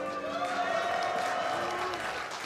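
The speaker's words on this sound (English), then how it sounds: "I'm hearing a lot of cheers. I'm hearing some booing as well, though." An arena crowd at an esports grand final, Los Ratones vs. NORD Esports, roars with mixed cheering and booing, a broad sustained wash of voices that stays loud and steady.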